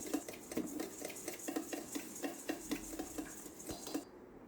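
A spoon stirs masala puffed rice (girmit) in a bowl, making a rhythmic series of light scraping clinks against the bowl, about two strokes per second, close and fairly quiet, ending abruptly.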